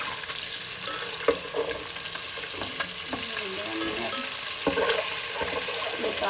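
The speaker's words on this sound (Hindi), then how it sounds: "अंडों को दो से तीन मिनट फ्राई करने के बाद हमने ना इसको निकाल देना" Eggs fry in a pan with a steady close sizzle and occasional stirring clatters, without voices.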